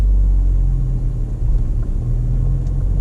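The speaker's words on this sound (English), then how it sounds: "Accelerate, release the clutch." A manual car's engine rumbles low and steady close by as the clutch is released, with a deep, even drone and no talking over it.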